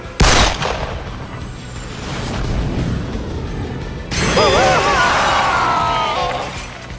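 Gunfire in an animated battle from the English dub of Persona 5: a sharp shattering blast at the start, then a busy layered battle mix with a warbling effect near the end, loud throughout with no talk.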